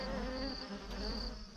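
Honeybees carrying pollen back to their hive in the morning make a close, continuous droning buzz that stays steady throughout, with no voices.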